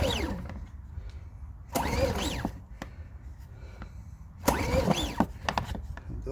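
A Power Smart 3800-watt inverter generator running on propane tries to start in two loud bursts of cranking and catching engine noise, separated by quieter stretches with faint clicks and low rumble.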